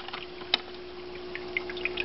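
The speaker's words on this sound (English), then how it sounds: "the water flow that's going right now is kind of high." Water from a Maxi-Jet aquarium pump flowing at a high rate with a new bio wheel, a faint steady trickle and gurgle under a constant low hum, with small splashy drips.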